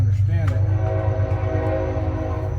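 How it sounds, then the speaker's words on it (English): A train rumbles past nearby with a sustained horn-like tonal drone over heavy low rumble, loud and continuous, while someone speaks briefly over it. "Sorry about the train,"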